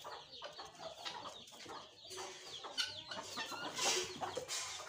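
Soft, busy clucking and chirping of Aseel chicken chicks close by, a continuous chatter of small calls with a few louder peeps.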